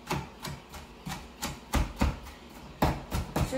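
A seven-year-old finely mincing food with a knife on a cutting board, about a dozen crisp chops in a quick, slightly uneven rhythm, close and clear, with no talk.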